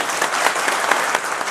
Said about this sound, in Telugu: మిగతా వాళ్ళందరూ అయ్యగాళ్ళ కోసం గట్టిగా చప్పట్లు కొట్టండి ఒకసారి.